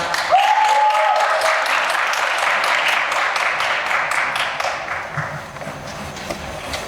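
Audience at a Hangul Day speech contest gives a strong round of applause to welcome the next presenter: dense, loud clapping heard alone, easing slightly toward the end.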